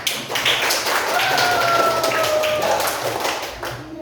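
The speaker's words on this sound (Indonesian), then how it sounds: "Tepuk tangan untuk ya." Fifth-grade pupils at an elementary school in Cibenda clap together in their classroom, a steady dense patter of many small hands lasting several seconds, with faint voices mixed in.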